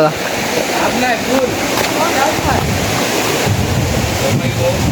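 Large sea waves break and churn steadily with continuous roaring surf and wind buffeting the microphone, while voices speak faintly underneath.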